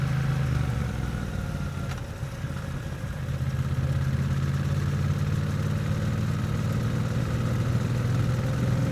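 A running engine during gear-shifting and clutch practice, a low steady drone that dips briefly as if easing off during a shift and then picks back up, close and even, with no talk.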